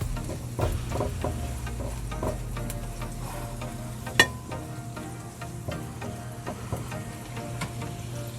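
Garlic sizzles steadily in oil in a pan, with a soft, continuous crackle and scattered scraping clicks as it is stirred, heard close and alone without talk.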